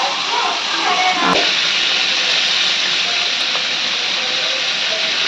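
Cardamom, cloves and cinnamon drop into hot oil for tempering, producing a loud, steady, close hiss of sizzling with a brief clink partway through.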